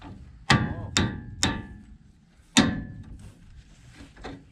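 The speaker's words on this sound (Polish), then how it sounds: "Puknij młotkiem może trochę." Several sharp hammer strikes on sheet metal with a ringing tone, three in quick succession, a pause, then one more, with faint clatter after, while repairing a leaking tank on a Fortschritt E514 combine harvester.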